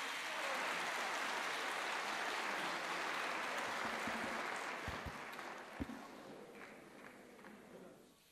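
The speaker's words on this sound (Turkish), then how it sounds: "Alkışlarınız efendim" Sustained applause from an audience at an outdoor memorial ceremony for Hacı Bektaş-ı Veli in Turkey, a steady dense wash of clapping that fades toward the end with a few louder knocks.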